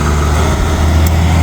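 A big old tree truck rolls past near train tracks in Carlisle, its engine a steady low rumble that holds loud and even throughout, with no voices over it.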